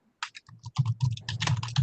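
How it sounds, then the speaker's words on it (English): Rapid keyboard typing, a dense run of close clicks and key taps with no pauses, picked up on an open microphone during an online building standards and appeals board meeting. "can we ask that whoever's typing go on mute, please?"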